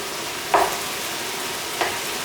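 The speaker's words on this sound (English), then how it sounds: "I'm going to cook the mincemeat until it's ruddy brown." About 800 grams of minced meat frying in a pan gives a steady loud sizzle, broken by two brief scraping stirs, alone with no talk.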